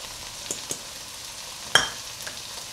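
Egg fried rice with vegetables stir-frying in a pan, with a steady soft sizzle and a few light scraping stirs, one sharper near the middle, close and on its own.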